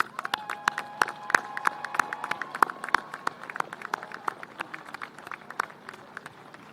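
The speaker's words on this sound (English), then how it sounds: "Join me in giving these folks a round of applause." Scattered clapping from the audience at a school graduation ceremony, honouring parents and teaching staff, with distinct individual claps rather than a dense roar, set against a faint tone and crowd murmur.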